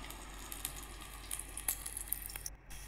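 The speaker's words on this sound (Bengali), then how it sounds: "পটলগুলো একটা একটা করে তেলে দিয়ে ভেজে নেব" Pointed gourds (potol), salted and coated in turmeric, fry in hot oil with a soft, steady sizzle and faint crackles, heard alone at moderate-low volume with a brief drop near the end.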